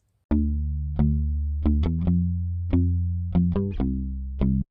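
Bass guitar through the free Arturia Chorus Jun-6 plugin on its default preset: a series of deep, sustained, chorused notes plucked one after another, each decaying slowly, clean and alone.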